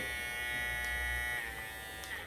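Electric hair clipper buzzing steadily at high speed, close and continuous, with a bright whining hum and no talking.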